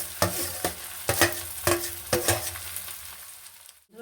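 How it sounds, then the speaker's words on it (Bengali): Shrimp tipped into a pan of fried rice with egg, cashews and raisins, several sharp stirring scrapes over a gentle sizzle, close up, then quiet at the end. "এবার এই চিংড়ি মাছটাও আমি ঢেলে দিলাম"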